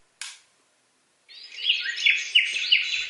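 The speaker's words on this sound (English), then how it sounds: "default is the forest sound. As you can hear, a lot of birds" Forest birdsong plays from a LATME white noise machine. A sharp click comes first, then after a short silence, repeated bright chirps and trills build and continue steadily, fairly close and clear.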